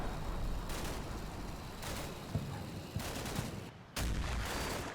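Rifle and small-arms gunfire in the Cold War wargame Combat Mission: Cold War, a steady rattle of broadband shots with several sharper reports and a burst near the end, no talking.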